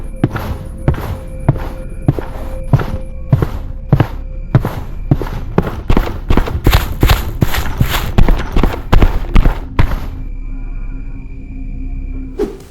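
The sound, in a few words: footstep sounds from a horror video game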